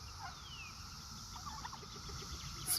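Heritage turkeys cluck softly and intermittently in a quiet barn, faint bird calls scattered across low background hum with no talk.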